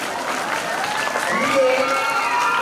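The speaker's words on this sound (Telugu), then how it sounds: "ఇప్పుడు మీరు అందరూ కూడా చప్పట్లు కొట్టండి ఒకసారి మీ స్టాఫ్తో" Applause from school students for their staff at a Dubba government school event, with a steady crowd of clapping and some talk and voices mixed in throughout.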